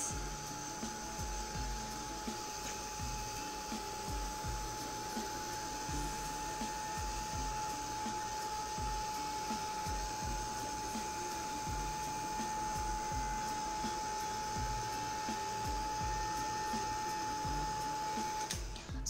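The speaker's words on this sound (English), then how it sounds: "I'm going to use my heat gun to speed up the drying process." A heat gun blowing hot air to dry air-dry clay pieces, a steady continuous whir with a constant high whine, running alone and unchanging throughout.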